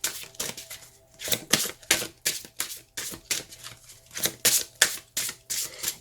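A deck of Gaia oracle cards is riffled and shuffled by hand, producing rapid, crisp bursts of papery flicking in an irregular rhythm, close up and alone.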